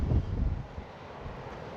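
Wind blows outdoors, rushing and buffeting against the microphone in a strong gust at first and then settling into a steadier, lower rumble.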